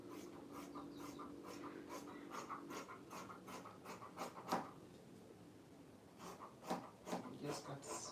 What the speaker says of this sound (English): I like how the scissors is making a noise.